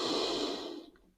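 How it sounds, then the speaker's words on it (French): A single deep breath drawn in during a yoga side stretch: a close, airy inhalation that holds steady for most of a second and then fades quietly away, with no voices. "On inspire"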